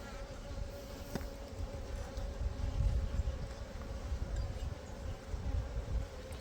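Honeybees from a package colony buzz steadily during an open hive inspection, a dense, continuous low hum close by with faint rustling and no speech.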